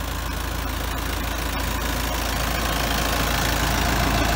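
A Kubota M6S 111 tractor, about 111 horsepower, idles with a steady low diesel chug and faint knocking, close by and continuous, with no talk.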